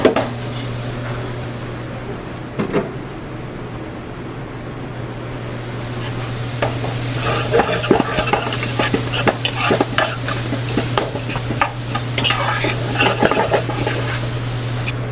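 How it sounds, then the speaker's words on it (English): Mushrooms fry in oil in a pan while being stirred, a steady loud sizzle under repeated close scraping and clinking of a utensil against the pan, with no talk. "I'm cooking the mushrooms."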